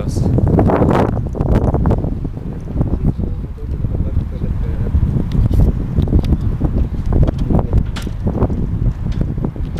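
Strong wind buffets the microphone at Stonehenge, a loud continuous roar with gusty surges throughout, close and rough, with no clear voices over it.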